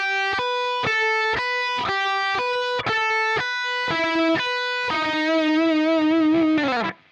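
Distorted electric guitar plays a solo lick: a run of short, separated picked notes stepping down, then one long sustained note with heavy vibrato that cuts off abruptly, loud and alone.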